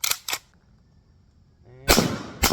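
A shotgun fitted with a Walmart red dot sight fires four loud, sharp blasts close by: two quick shots, a pause, then two more, each with a short ringing tail.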